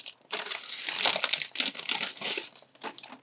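Close rustling and crinkling as a hand rummages through a soft bag of budget fly tying tools, a continuous papery scrunching with small clicks of tools shifting inside.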